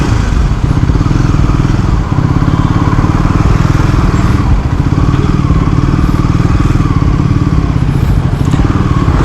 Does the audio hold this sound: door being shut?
no